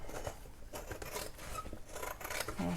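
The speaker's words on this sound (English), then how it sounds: "just go ahead and cut it with a pair of scissors right on that fold line" Scissors cut cereal box cardboard along a fold line, a series of close, crisp snips and crunches in quick uneven rhythm, fairly quiet with no talk.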